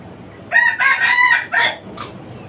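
A rooster on a small backyard chicken farm, kept in limited space, crows once, loud and close, a long drawn-out call followed by a short clucking note, with no talk.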